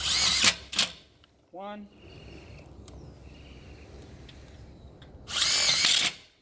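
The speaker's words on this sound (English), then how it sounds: "Mount it on top of the spindle, and you can use self-tappers here as well." Cordless power drill driving self-tapping screws into a pedestrian gate mounting, with two loud close whirring bursts at the start and end, a brief rising rev in between, and someone speaking over quieter stretches.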